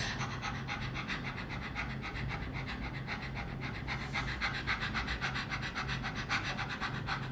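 A person's voice imitates a happy, excited dog's panting: quick, rhythmic huffing breaths repeated steadily and close throughout, without words.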